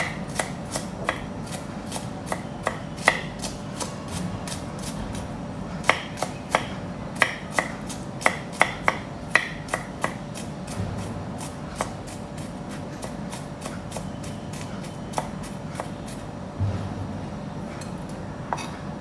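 Knife blade tapping repeatedly on a cutting board while chopping vegetables, garlic cloves included, in a home kitchen; crisp, close, fairly steady strokes that come in bursts and pause, with no talking.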